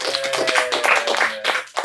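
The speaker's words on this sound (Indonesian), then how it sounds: "Tepuk tangan buat Alka." A few people clapping for a guest during a casual podcast chat, a close, uneven patter of hand claps that pauses briefly near the end.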